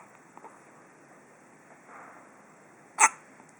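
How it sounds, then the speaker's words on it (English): A child gives a single sharp hiccup late on, loud and close against an otherwise quiet room. "Got a little hiccups, huh?"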